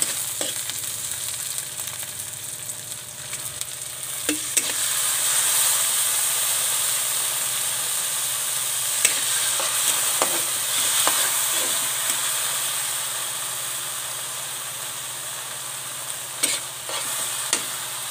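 Fish fries in a pan with soy sauce, a steady loud hiss and crackle that runs the whole time with a few stirring knocks and scrapes, and no voices.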